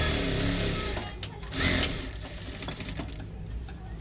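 An overlock sewing machine stitching a blouse seam, running in a steady close mechanical whir that slows and stutters in short bursts toward the end.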